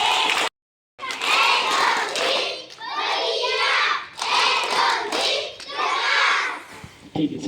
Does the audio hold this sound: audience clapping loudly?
yes